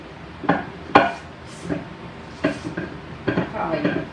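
Someone handles a clay pot while cooking chicken. It gives several close, dull knocks and clinks of pottery, spaced irregularly, with a voice speaking between them.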